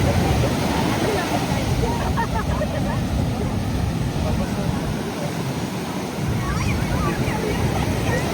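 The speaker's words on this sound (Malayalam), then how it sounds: "കടലിലെ വെള്ളമടിക്കുന്ന തിര നോക്കി കാണാൻ എന്ത് ഭംഗിയാന്ന് നോക്കി." Steady roar of surf breaking along the shore at Shanghumukham Beach, mixed with gusty wind rushing over the microphone, continuous throughout.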